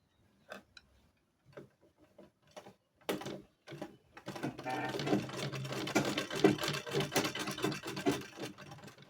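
Sewing machine stitching the edges of a baby frock, a few short bursts and clicks at first, then a steady fast-running whir that builds and holds, close by.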